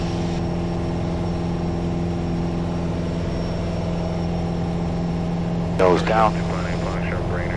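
Steady droning engine of a Piper Warrior light aircraft climbing after takeoff, heard from inside the cockpit as a constant loud hum with a pilot speaking briefly over it.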